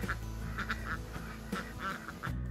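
A flock of farm ducks, unsettled after a day of selection and culling, quacks in repeated overlapping bursts at close range over a steady background hum.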